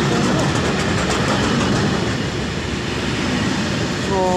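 A long train rolls past on the rails, close and loud, a continuous rumbling roar with a faint rhythmic clatter of wheels that holds steady for the whole stretch.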